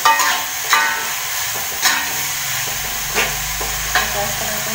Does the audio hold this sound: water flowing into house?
no